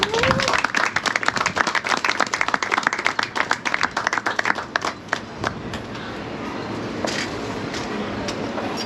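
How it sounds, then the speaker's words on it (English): Wedding guests give a round of applause for the parents, dense individual claps near and lively for about five seconds, then fading into softer scattered clapping and room murmur. "I would like everybody to please give them a round of applause."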